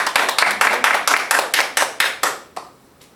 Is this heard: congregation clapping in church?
yes